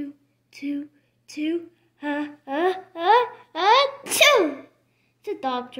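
A narrator reading a Berenstain Bears children's story voices a big sneeze from Papa Bear, a sharp burst after a few spoken words, with the sneeze imitated vocally rather than real.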